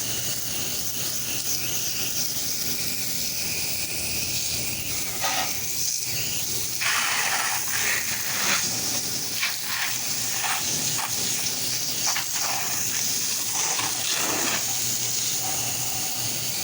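A pressure washer sprays soap onto the side of a house, a continuous close hiss of spray with brief surges and sputters as the stream shifts across the siding.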